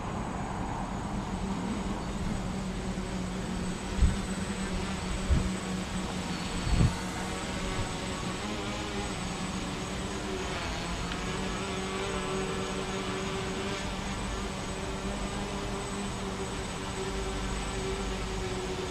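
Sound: ArduCopter drone on HobbyKing Predator 650 frame hovering

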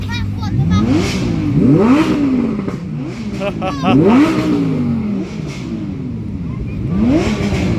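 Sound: Ferrari engine revving while reversing

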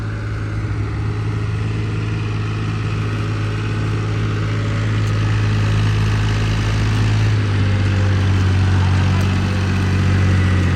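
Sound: tractor engine pulling a trolley

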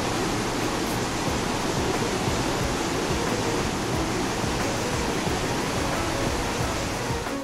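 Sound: flowing Godavari river water

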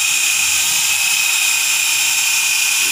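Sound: spinning drill

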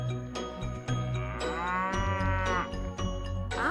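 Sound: cow mooing

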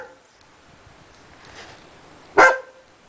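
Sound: dog barking

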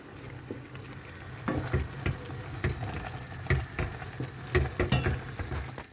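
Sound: Maggi noodles cooking in a pan

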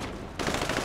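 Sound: gunfire in GTA V video game

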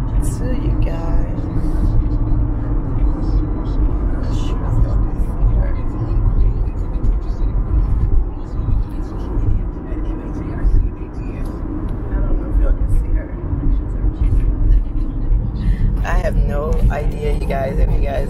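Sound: car road noise heard inside while driving

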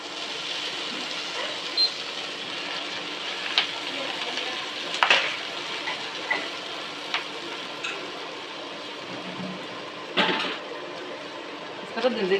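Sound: gongura leaves frying in hot oil

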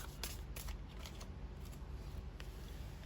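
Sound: tarot cards being handled and drawn

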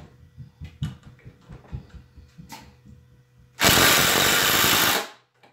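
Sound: Craftsman impact driver sinking a screw

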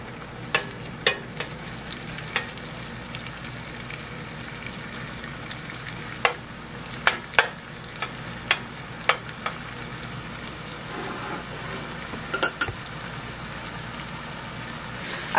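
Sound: onions frying in a pan for cauliflower fried rice

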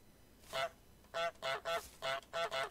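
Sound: goose honking in the video game Untitled Goose Game

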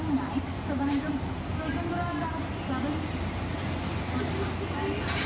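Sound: passing train on rails

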